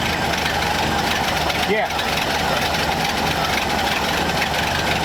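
A 1931 Ford Model A coupe engine idles steadily nearby, running off a nurse tank, its continuous broadband rumble steady throughout while a voice speaks briefly over it.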